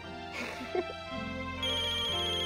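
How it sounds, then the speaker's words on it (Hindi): A telephone ringtone plays in a quiet indoor scene, a short electronic melody that shifts to a brighter repeating tone, with a brief faint voice near the start. "इसका फोन है देवयानी?"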